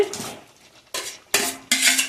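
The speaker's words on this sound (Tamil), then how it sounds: "இந்த கிரேவி நல்லா கிண்டி விட்டுக்கோங்க." Metal utensil scrapes and clanks against a pan while stirring potato gravy, in three or four quick, separate bursts, with quiet pauses between.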